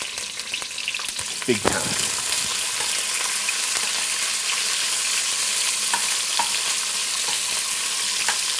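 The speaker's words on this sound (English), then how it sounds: "we're going to get our peppers in there. And we are going to cook these down" Peppers frying in a quarter cup of extra virgin olive oil on medium-high heat for shakshuka, a loud steady sizzle with bursts of stirring clatter early on, and a brief spoken remark near the start.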